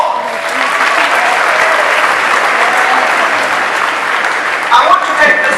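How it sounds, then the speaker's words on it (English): Graduation audience at a university commencement applauding, a dense steady wash of clapping from a large crowd, loud and continuous, swelling slightly near the end. "Give them a round of applause."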